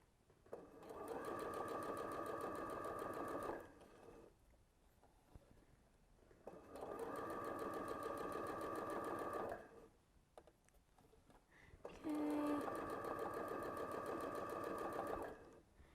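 Sewing machine stitching a fabric scrunchie in three sustained bursts of rapid whirring, each a few seconds long, separated by short quiet pauses.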